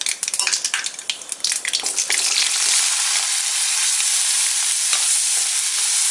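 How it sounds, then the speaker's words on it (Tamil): Onion and garlic dropped into hot oil after mustard seeds pop, a loud burst of crackling and spattering that settles into a steady, intense close sizzle with occasional stirring scrapes. "இப்போ இந்த பொரிஞ்சோடனே இந்த வெங்காயமும் பூண்டையும் போட்டு வதக்கிக்கலாம்."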